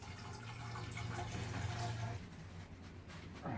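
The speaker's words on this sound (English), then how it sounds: "Fill it full of water and away you go." A boiler at an off-grid cabin is filled with water: a quiet, steady rush of pouring liquid for about two seconds that then cuts off, leaving faint room noise.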